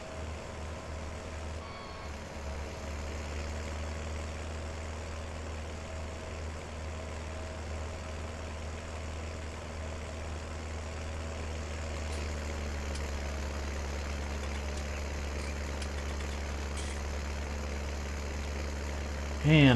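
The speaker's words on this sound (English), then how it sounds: "Take this filthy tractor back to the farm." A tractor engine idles in the Farming Simulator 19 video game, giving a steady, low, continuous drone throughout with no voices.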